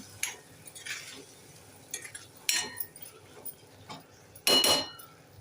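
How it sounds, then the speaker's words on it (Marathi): Fresh cashew vegetable curry stirred and sautéed in a pan, with scattered scraping and clinking strokes of a spoon against the pan, loudest near the end, over a quiet background. "भाजीला परतून घेऊया"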